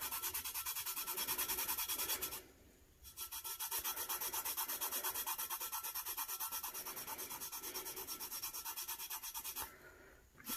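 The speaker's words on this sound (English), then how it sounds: "I feel like I'm rubbing a lot of the blue off" Paint is rubbed off a glitter tumbler by hand in steady, rapid back-and-forth strokes, a close, even scratchy rasp that pauses briefly twice.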